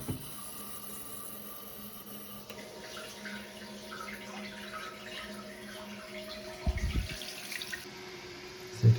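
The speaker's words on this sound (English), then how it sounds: "So now we can go ahead and start filling the tank with water." Water from the supply line pours steadily into a newly installed toilet tank, making a continuous close rushing and trickling flow that lasts throughout, with a few small clunks near the end.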